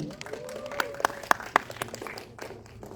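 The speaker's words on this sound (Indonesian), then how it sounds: "Kita berikan tepuk tangan yang meriah untuk sutradara JP Yudi." Scattered applause at a press conference for an Indonesian film: a handful of crisp claps in an indoor room, fairly sparse and brief, with a faint voice underneath.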